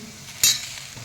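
Okra with red chili powder and turmeric sautés in a pan, giving a short soft sizzle with a quick metallic scrape of stirring.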